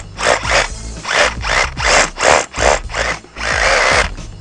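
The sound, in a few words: power drill boring a hole for a resin anchor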